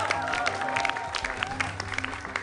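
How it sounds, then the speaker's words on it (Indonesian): A studio audience on a televised quiz show claps together, sharp overlapping hand claps over a background music tone, steady and fairly close, thinning out toward the end. "Tepuk tangan buat Kuiper Video."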